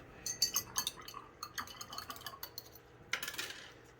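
A spoon stirs a few drops of nutrient into a small cup of hydroponic water, making light clinks and scrapes against the cup in quick uneven bursts, close by but quiet, with no talking.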